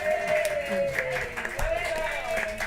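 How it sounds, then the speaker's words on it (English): Audience applause at a competition grand final, a dense wash of clapping from a crowd in a hall, steady and fairly loud for a few seconds, with a sustained tonal hum running underneath. "Another round of applause, if you like, for everybody, yes?"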